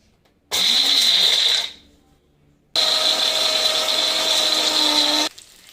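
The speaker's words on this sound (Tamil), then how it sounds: "இதை போட்டு நம்ம மிக்சியில் ட்ரை ரோஸ்ட்டாக நம்ம அப்படியே குறன்னு அரைச்சிக்க போகிறோம்" Kitchen mixer grinder running dry on fresh coriander leaves: a loud, steady high-pitched whine in two bursts, a short run that spins down into a pause, then a longer run that cuts off abruptly.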